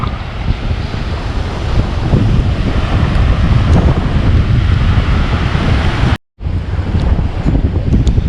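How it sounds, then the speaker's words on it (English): Rough sea pounding a beach in Mexico after Hurricane Zeta, loud continuous surf and roaring wind buffeting the microphone, briefly dropping out for a moment before resuming. "The sea is still pretty rough."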